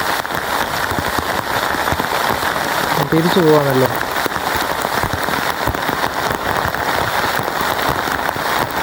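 Heavy monsoon rain pours down in a forest, a dense, loud hiss that never lets up, with a person speaking briefly partway through.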